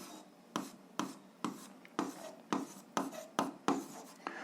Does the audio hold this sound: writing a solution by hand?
yes